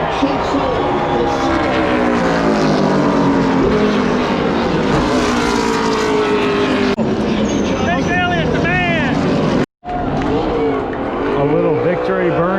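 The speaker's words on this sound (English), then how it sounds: "A little victory burnout from Elliott." Chase Elliott's NASCAR race car doing a victory burnout after a close finish ahead of Denny Hamlin: a loud, sustained engine roar with revving pitch sweeps, a brief dropout, then more revving, under an excited broadcast commentator.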